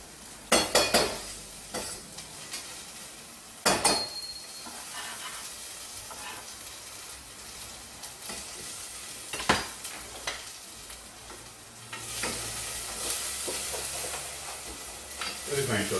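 Mac and cheese being stirred in a really old pot, a spoon scraping and knocking against the metal in scattered clanks over a continuous low sizzle, close and fairly loud, with occasional brief talk.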